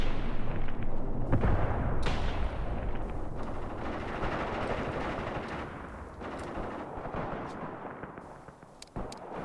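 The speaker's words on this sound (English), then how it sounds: "Artillery landing close to you is not a fun experience." Artillery shells land close by in the war game Graviteam Tactics, a loud rolling barrage of blasts and crackling gunfire that fills the scene continuously, with sharper cracks near the end.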